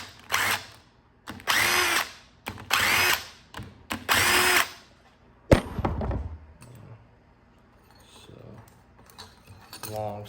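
A power drill whirs in four loud bursts, separated by short pauses, as it backs Allen bolts out of a TTR 230 motorcycle engine, then metallic clinks and light handling sounds follow.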